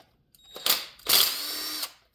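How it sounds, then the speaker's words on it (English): Impact driver with a T27 bit backing out cylinder bolts on a Stihl FC 75 edger, two short loud whirring bursts close by, the second longer. "impact tool. Takes them, drives them right out."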